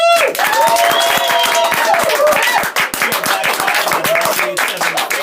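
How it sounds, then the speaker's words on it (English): Energetic audience clapping and cheering at a live radio station broadcast, with excited shouts and voices mixed into rapid, loud applause. "Let's start clapping"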